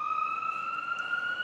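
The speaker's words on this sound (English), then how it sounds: "That's an ambulance." Ambulance siren holding a steady, slightly rising electronic tone with a bright overtone, loud and continuous throughout with no talking.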